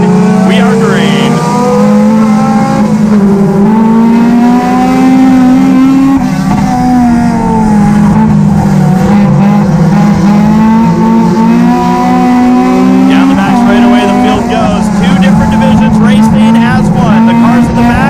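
NASCAR Division III Enduro stock cars roar off at the green flag start, a loud, continuous pack of engines revving and droning close by, with a commentator talking over the noise throughout.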